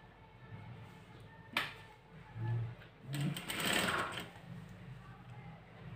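A sewing machine stitches a folded half-inch hem along a narrow border strip for a blouse. Its soft, steady whirring runs continuously at low volume, with a couple of brief louder mechanical bursts.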